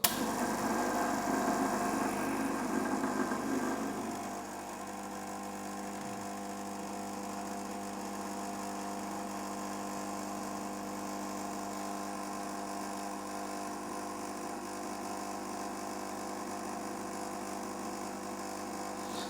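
Lelit Glenda PL41 espresso machine running while brewing: a brief louder pump burst at the start settles into a steady, fairly quiet mechanical hum with a constant buzzing tone throughout.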